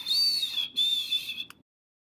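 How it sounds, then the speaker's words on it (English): A Hermit Thrush sings a clear, flute-like whistled phrase, a sustained high note that breaks briefly and resumes, then ends abruptly after about a second and a half, with no voices. "Hermit Thrush."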